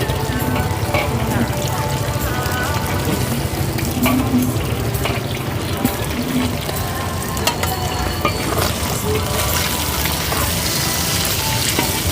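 Pad thai noodles stir-fried in a pan with egg and bean sprouts at a cheap street noodle stall, a steady dense sizzle with scraping and stirring clatter running throughout, alongside a running-water or sink wash sound.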